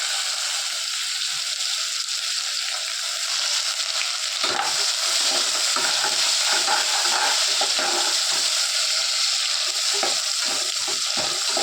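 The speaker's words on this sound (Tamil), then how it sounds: "ஆனியன் போடுற பாருங்கள், நல்லா எண்ணெய் சூடாகிடுச்சு" Chopped onions sizzle in hot oil for spicy pasta, a steady close frying hiss that turns into denser crackling and popping about halfway through, with no talking.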